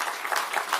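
Brief burst of audience applause at a Korean political gathering, a steady wash of clapping from a crowd with no voices over it.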